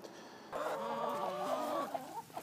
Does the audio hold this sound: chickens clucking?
yes